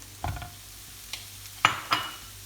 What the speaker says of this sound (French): Concentré de tomates mélangé avec une cuillère d'eau.